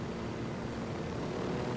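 A helicopter flies in the Ghost Recon Wildlands video game, a steady, dense rotor and engine roar holding at an even level throughout, close and alone with no talk over it.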